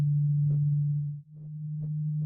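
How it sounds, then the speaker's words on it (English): A steady pure tone sounds in the right ear for a binaural demonstration, holding at one low pitch throughout with a brief dip near the middle and a few soft background thumps. "First, you will hear a tone in your right ear."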